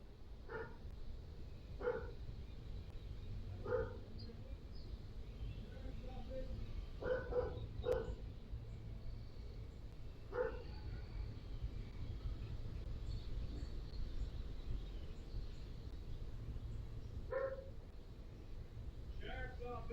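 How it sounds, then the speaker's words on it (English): A dog barks repeatedly at a distance, in scattered single and paired barks over a low, steady background hum. "we hear the dog barking pretty much the entire time"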